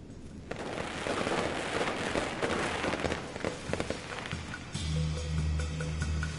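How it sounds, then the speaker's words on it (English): Firecrackers crackle densely and loudly in the video game Nine Sols for several seconds, a continuous burst of pops that thins out, then a low steady hum and game tones take over near the end. "Wow, firecrackers!"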